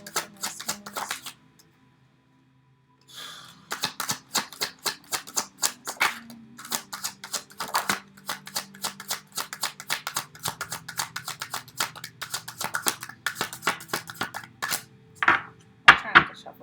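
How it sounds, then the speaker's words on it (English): Tarot cards riffled and shuffled by hand in quick, close, steady bursts after a brief pause, with soft handling noises running almost continuously. "I'm trying not to shuffle too much."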